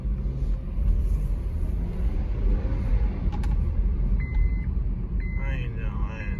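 A 2012 Honda CR-V engine rumbles steadily at close range, revving and shifting through gears, with a few faint electronic beeps near the end.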